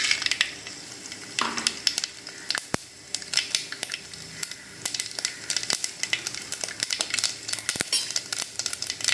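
Dried red chillies crackling and sizzling in hot oil for a sambar tempering, bright popping spatters and steady frying hiss heard close, with a few clinks of a utensil against the pan.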